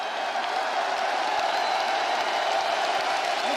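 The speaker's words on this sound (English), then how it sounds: "Listen to the crowd, DC." Dense arena crowd at a UFC welterweight title fight, a steady roar of cheering and applause that fills the whole span without letting up, loud and close with no clear individual voices.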